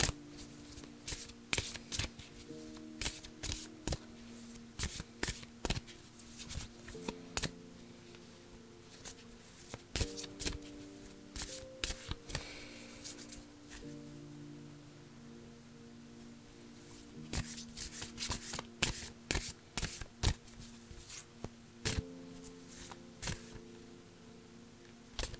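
Angel oracle cards shuffled by hand for a reading, a long series of sharp riffling snaps and soft slides, close and irregular, with faint background tones underneath and no talking.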